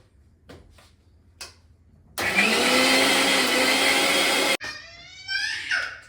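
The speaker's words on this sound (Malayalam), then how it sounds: "മഞ്ഞൾപ്പൊടിയും കൂടി ഇട്ടിട്ട് നന്നായിട്ട് നല്ല ഫൈനായിട്ട് അരച്ചെടുക്കും" A mixer grinder grinding a paste with turmeric powder roars loudly for a couple of seconds, then cuts off abruptly, with quieter clinks and rattles before and after.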